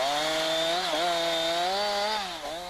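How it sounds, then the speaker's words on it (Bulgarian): Chainsaw cutting branches on the upper part of a tree stem, a steady loud engine drone whose pitch dips briefly twice as the bar bites into the wood. "Клоните в горната част на стъблото могат да бъдат отрязани с трион"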